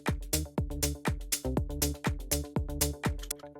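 An oriental house track plays without its background texture loop: a punchy kick drum on a steady four-on-the-floor beat with bright hi-hat and percussion hits and a sparse melodic line, clean and rhythmic with open space between hits.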